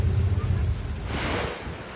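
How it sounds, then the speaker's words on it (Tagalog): Strong wind gusts with heavy rain lash Bahay Toro, Quezon City, during a night storm: a low buffeting rumble of wind against the microphone gives way to a loud, steady, hissing rush of rain. "Malabagyo ang bugso ng hangin na sinabayan pa ng malakas na ulan sa bahaging yan ng Bahay Toro, Quezon City."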